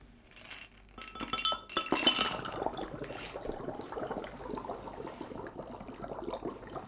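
Dry ice in a glass of water fizzes and bubbles steadily, with bright clinks and rattles against the glass early on, then a continuous close, moderately quiet bubbling hiss.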